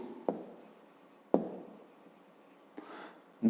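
A pen writes a math answer on paper, with close scratchy strokes in several short bursts separated by sharp taps, and no speech over it.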